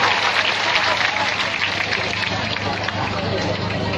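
Youth camp audience applauding during a sermon, a dense, sustained burst of clapping from a large crowd filling the whole moment.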